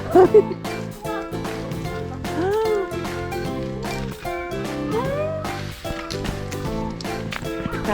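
Several cats meow repeatedly and close by on a mountain hiking trail on Dobongsan in Seoul. The wavering cries come one after another, with some overlapping.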